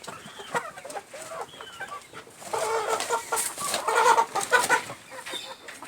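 Old laying hens of mixed country and Gramasree-type breeds cluck and murmur in a backyard coop, irregular bursts of clucking that grow busier and louder in the second half, close by with no talk.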